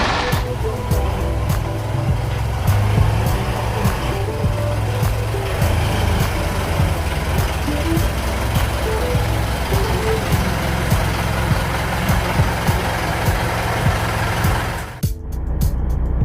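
A warm car engine idles steadily at operating temperature, a loud continuous low rumble close by, with a brief dip near the end.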